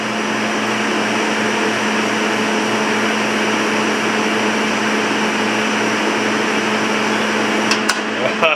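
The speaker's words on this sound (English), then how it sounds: "Turn the wire speed all the way up. Well, it's running wire off the spool." A Millermatic 130XP MIG welder feeding wire off the spool at full wire speed, a loud steady motor whir and hum held throughout, ending with a couple of brief clicks.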